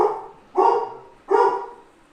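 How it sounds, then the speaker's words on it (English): Dogs barking indoors, two distinct sharp barks spaced about a second apart, moderately close and alone without talk. "Stop barking."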